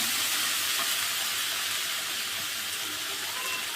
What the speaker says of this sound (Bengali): সুন্দর করে মশলাটা একটু কষিয়ে নেবো